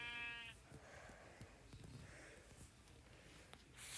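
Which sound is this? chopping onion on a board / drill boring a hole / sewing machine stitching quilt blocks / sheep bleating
sheep bleating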